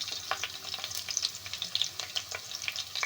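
Crushed garlic cloves and curry leaves frying in hot oil in a pan, a steady close crackling sizzle with scattered sharp pops throughout, no voices.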